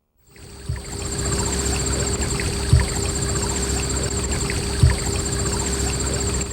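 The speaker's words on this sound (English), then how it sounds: "You can hear the rippling of this little creek here in Eaton County" A small creek in Eaton County in mid-August ripples in a soft, continuous outdoor wash of flowing water, steady and fairly faint, with a few dull knocks and no voices.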